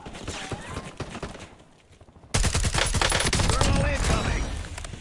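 Heavy automatic gunfire in Call of Duty Warzone, rapid close bursts that pause briefly and then return as dense, loud sustained shooting.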